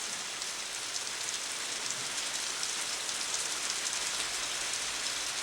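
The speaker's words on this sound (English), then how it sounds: "the northeast monsoon rains that start in October each year." Steady, heavy northeast monsoon rain pours down continuously, a dense even hiss with no pauses.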